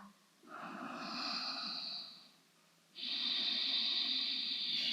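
Two slow, deep breaths during a morning yoga flow, each a broad airy inhale-exhale hiss standing alone, close and fairly loud, with a short quiet gap between them.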